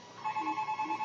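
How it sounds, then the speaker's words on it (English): A telephone rings in a short burst of steady electronic trilling tones, repeating in quick pulses at moderate loudness with no voices over it. "and that's the phone"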